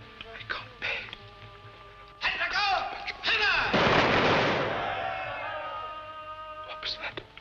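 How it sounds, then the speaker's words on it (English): A firing squad's gunfire at an execution in a 1953 film: sharp, close shots, then a heavy, roaring volley that fades slowly, with scattered voices and sounds before and after. "Firing squad. It's execution day."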